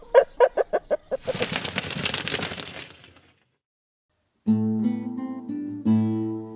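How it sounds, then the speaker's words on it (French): Rapid agitated clucking from several hens, a burst of squawks and flapping commotion, then silence before a different tonal sound enters. "Lâche, Minou s'enfuit avec ses poules en panique."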